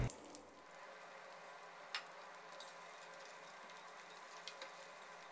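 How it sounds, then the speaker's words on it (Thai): Sun-dried croaker fish fries in hot oil, a steady fine sizzle and crackle with occasional small pops, close and continuous throughout with no talking. "ใส่ปลาจวดแดดเดียวของเราลงไปทอดเลยครับ"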